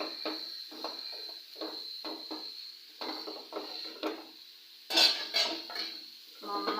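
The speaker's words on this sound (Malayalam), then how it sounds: "നന്നായിട്ട് മിക്സ് ചെയ്ത് യോജിപ്പിക്കണം" Papaya being tossed with grated coconut and spices in a cooking pan, a spoon scraping and clinking against the metal in repeated short strokes with brief pauses.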